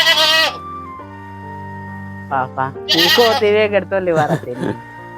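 Goats bleat several times in wavering, nasal cries, close by, with people talking in the background.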